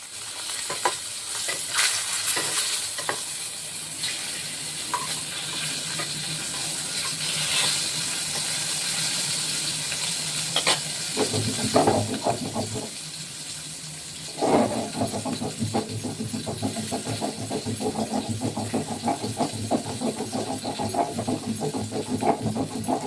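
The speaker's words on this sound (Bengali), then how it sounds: "মাছটা একটু লাল করে ভাজতে হবে।" Fish fries in a pan of oil with a continuous loud sizzle, steady hiss punctuated by occasional stirring scrapes and spatter bursts, growing busier toward the end.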